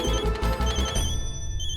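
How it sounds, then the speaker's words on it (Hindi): A telephone rings loudly in repeated electronic bursts, then the ringing fades into a lingering sustained tone. "किसका फोन है? जल्दी देखो।"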